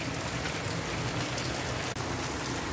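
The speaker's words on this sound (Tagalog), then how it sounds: "It's raining here in Saudi Arabia." Steady rain falls on a summer morning in Alkhobar, Saudi Arabia, a dense, even hiss of drops on surfaces that continues without a break, moderately loud and close, with no voices.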